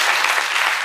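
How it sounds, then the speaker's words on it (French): Dense, steady applause from a café audience gathered with students, a continuous wash of clapping at even loudness across the whole short clip. "On va d'abord vous applaudir parce que vous nous avez servi un bon café."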